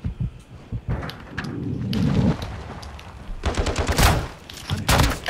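Shotgun blasts go off in the shooter game DMZ, a series of sharp, loud bangs scattered across the moment with booming low-end impacts and no talk.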